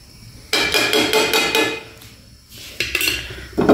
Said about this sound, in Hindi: एक और पैन हम चढ़ा देंगे गैस पे